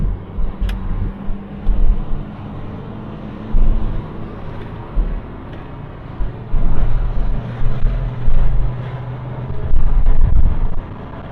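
A Triumph 2500 automatic saloon driving on a New Zealand road, with low engine and road rumble that swells and eases in uneven surges, some wind buffeting, and no talk.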